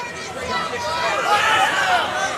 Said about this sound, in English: Crowd screaming, punish him.